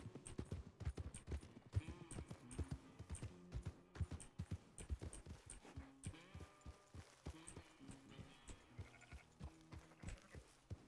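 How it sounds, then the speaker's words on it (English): A horse in the Western video game Red Dead Redemption 2 (RedM roleplay) walks, its hooves clip-clopping in a steady rhythm, with a few soft animal snorts among the footfalls. "Look how cute this horsey is."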